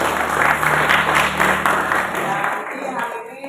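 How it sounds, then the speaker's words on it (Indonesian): A classroom of students applauds one group, a dense, steady patter of many hands clapping close by that tapers off near the end. "tepuk tangan untuk kelompok 5"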